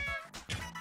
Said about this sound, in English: Insert a knob to hear cats?